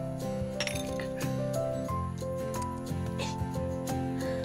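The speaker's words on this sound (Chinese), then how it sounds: "那就干杯！" Glasses clink in a birthday toast, a flurry of bright chinks and rings rising over tuneful background music, close and quick in succession.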